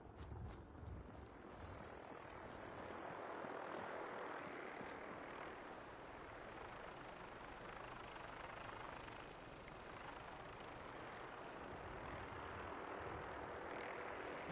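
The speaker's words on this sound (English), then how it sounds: "What's that chopper called?" Helicopter rotor drone from the video game Fallout, a steady broadband roar passing overhead that holds loud and even for the whole stretch, with a slight swell near the middle and no talk over it.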